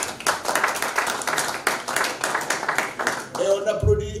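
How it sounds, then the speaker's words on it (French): Audience clapping at a conference in honour of Omar Gueye, rhythmic and fairly close, rising and falling in waves before thinning out near the end as a tone and a voice come in. "Donc on l'applaudit si vous voulez."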